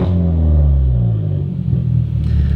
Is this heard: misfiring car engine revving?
yes